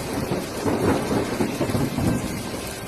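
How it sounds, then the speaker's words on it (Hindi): Heavy rain pours steadily on a dark night, with thunder rolling and rumbling underneath, a continuous dense wash of sound with no voices. "अंधेरी रात में कड़कती बिजली के साथ जोरदार बारिश हो गई"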